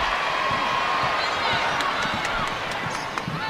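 A women's college basketball crowd cheers and claps for South Carolina's defense at a home game against Mississippi Valley State, a loud, steady roar with squeaking sneakers and a bouncing ball beneath it and a commentator talking over it.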